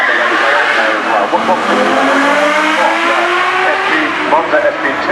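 An open-top Ferrari Monza SP2 supercar driving at the Goodwood Festival of Speed 2019, its engine note rising and shifting through gears, fairly close and loud, with a person talking over it.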